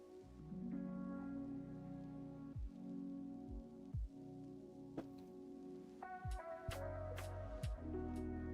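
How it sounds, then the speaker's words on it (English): Heavy rain, tagged as rain on a surface, comes through as a steady, even wash with scattered drops, though game music and thumps sit over it and make the rain hard to pick out. "it's raining super heavy"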